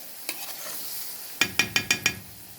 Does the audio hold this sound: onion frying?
yes